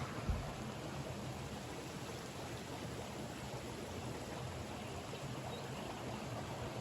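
Water runs steadily through the water feature of a newly built cement-based jacuzzi, a faint, even splashing trickle with no voices, constant from start to finish.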